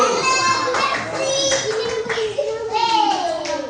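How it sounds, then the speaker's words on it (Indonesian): Third-grade classroom children clapping for the first presentation group, steady applause mixed with children's voices and chatter throughout. "Oke, jadi tepuk tangan untuk kelompok 1."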